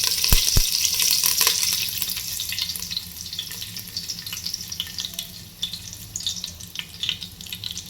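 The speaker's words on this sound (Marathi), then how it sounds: "मोहरीचा तडतड आवाज आला की त्यामध्ये आपण कढीपत्ता टाकून घेऊयात" Curry leaves sizzle in hot oil with crackling cumin and mustard seeds, a sharp spitting burst at first that settles into a steady close crackle with scattered pops.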